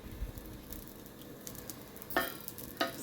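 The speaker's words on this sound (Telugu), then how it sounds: "ఇప్పుడు దోశ వేస్తున్నా" Dosa batter sizzling on a hot pan, a soft crackling fry noise with two sharp scraping clinks near the end, fairly quiet and close, no voices.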